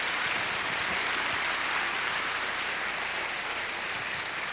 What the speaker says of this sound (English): a round of applause for the people at Smoky Mountain Jubilee down at the end of the street